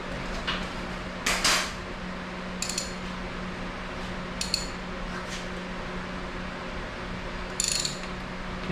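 Intermittent metallic ratcheting clicks from a wrench loosening a bolt on a 1988 Mazda 323 engine during head gasket work, a few brief bursts over a steady low hum.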